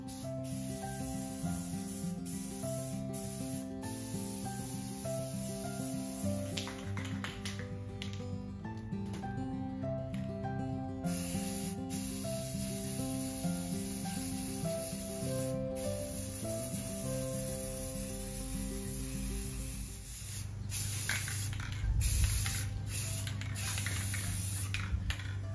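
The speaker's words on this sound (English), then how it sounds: "Good spray paint. That's some good spray paint." An aerosol spray paint can hisses in long, steady bursts while patio decor is painted on a porch, with brief pauses and faint rattling between passes, under a constant background hum.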